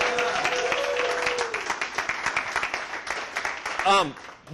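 Meeting audience clapping for a participant returning to her seat, a moderate patter of hands that thins out toward the end, with voices speaking over it and a short vocal sound near the close.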